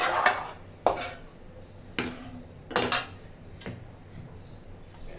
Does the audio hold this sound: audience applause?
no